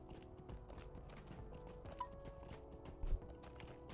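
Hooves clip-clop faintly and steadily as a horse is ridden in the online game The Lord of the Rings Online, with a couple of slightly louder thuds near the end.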